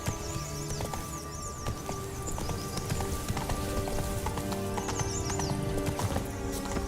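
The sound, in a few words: horse galloping in The Witcher 3 video game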